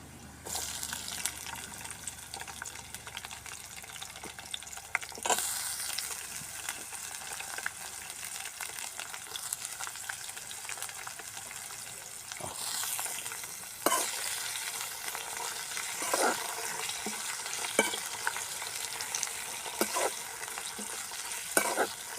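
Curry leaves, ginger, green chillies and capsicum fry in hot oil for a village-style cabbage puff filling, giving a steady, close, loud sizzle punctuated by occasional stirring scrapes and bursts of spatter, with no talking.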